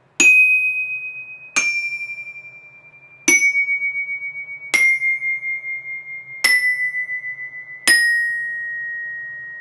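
Six bright metallic notes from a glockenspiel and a bell kit struck together on the same bar, one after another, each ringing out with a shimmering, slightly wavering decay before the next hit.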